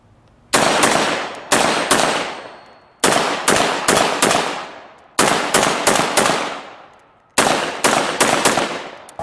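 Bursts of rifle gunfire from an M4 on a firing range, several sharp close shots fired in quick groups of three to five with short pauses between, loud and without talk.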